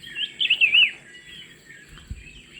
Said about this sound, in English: a range of loud chattering and laughing calls that echo through the forest